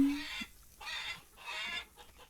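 Repeated bursts of chicken clucking and squawking in Farmer's Dynasty, in a steady rhythm, moderately loud with background noise between calls.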